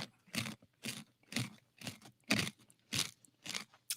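Loud, close crunching as crisp yucca chips are bitten and chewed, in a steady rhythm of about eight sharp crunches.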